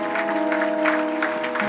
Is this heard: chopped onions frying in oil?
no